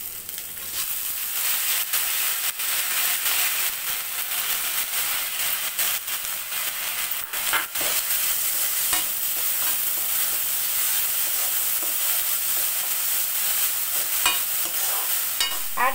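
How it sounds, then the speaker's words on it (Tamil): Soaked moong dal fries in oil with onions for a cabbage carrot poriyal, making a constant bright sizzle broken by frequent stirring scrapes and light spoon taps against the pan. "அந்த எண்ணெயிலே அந்த சிறுபருப்பு வந்து கொஞ்சம் வதங்கட்டும், அப்படியே ஃப்ரை ஆகட்டும்"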